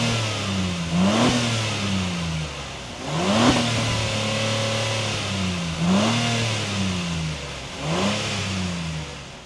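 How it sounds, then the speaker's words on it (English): 2024 Acura MDX Type S engine revs four times in a steady rhythm, each blip rising sharply and settling back to idle, loud and close. "Now listen to that engine."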